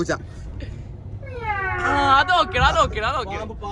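A voice imitates a cat, producing a drawn-out, wavering meow with a whiny, rising and falling pitch.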